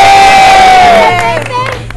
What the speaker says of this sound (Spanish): aplausos, chicos. ¡Bravo!